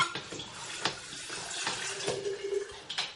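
Spring water pours and splashes while sprouts are rinsed, a steady running trickle with a few light clinks of a container, close by and without speech.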